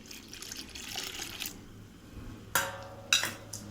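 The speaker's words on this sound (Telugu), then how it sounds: "వాటర్ వేసుకొని ఈ పిండి కలుపుకుందాము" Water poured from a tap into dosa batter made with rava, curry leaves, urad dal and cumin, a soft running trickle followed by two sharper splashing gushes near the end.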